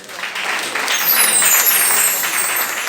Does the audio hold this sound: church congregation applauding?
yes